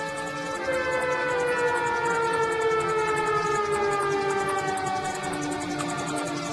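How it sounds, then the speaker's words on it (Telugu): A loud, sustained warning siren wails continuously, its tone slowly sliding downward, with a faint low rumble beneath. "సైరన్?"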